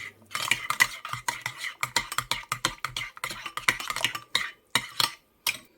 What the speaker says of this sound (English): Then give it another stir.